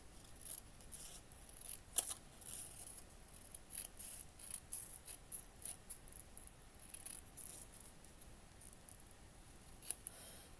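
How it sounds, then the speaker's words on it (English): Paper being cut with scissors while making a miniature cat cafe garden room box: a run of small, close snips in an irregular rhythm, some sharper than others, with no talking. "Cutting this piece here out."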